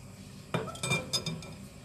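A spoon clinks and scrapes against a pot while stirring a chocolate mixture with butter over low heat, giving several short metallic taps close by over a quiet background.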